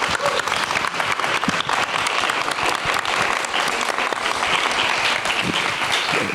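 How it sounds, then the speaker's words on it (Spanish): Dense, steady applause from a theatre festival audience for guests in conversation, many hands clapping at once with a continuous loud wash that never thins out. "Les pido entonces nada más un gran aplauso para nuestros invitados de esta tarde."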